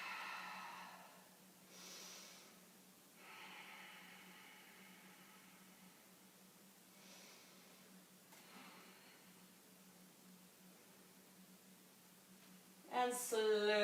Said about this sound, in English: let's take a few deep breaths here